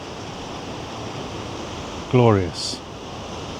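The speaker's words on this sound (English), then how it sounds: "Welcome to the Atlantic Ocean." Atlantic Ocean waves break on the Celtic Sea coast of Cantabria, Spain, as a steady, close, broad surf roar mixed with wind, and a person speaks briefly.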